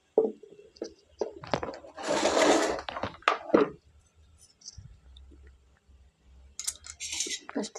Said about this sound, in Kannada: ಸ್ವಲ್ಪ ಕೊತ್ತಂಬರಿ ಸೊಪ್ಪು ಅರ್ಧ ಈರುಳ್ಳಿ ಒಂದು ಟೊಮೆಟೊ ಹಾಗೆ ಕೊಬ್ಬರಿ ಬೆಳ್ಳುಳ್ಳಿ ತೊಗೊಂಡಿದ್ದೀನಿ ಇವಾಗ ಇದನ್ನೆಲ್ಲ ಕಟ್ ಮಾಡ್ಕೊಳ್ತೀನಿ